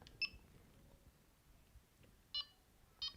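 A Minelab Txi-D metal detector gives three short, faint high-pitched beeps at beep speed level 2, spaced irregularly over a quiet background.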